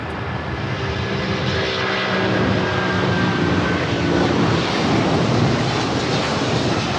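Avianca Cargo airplane at LAX airport, a loud, steady engine roar with broad wind-like noise holding strong throughout, close by and with no talking.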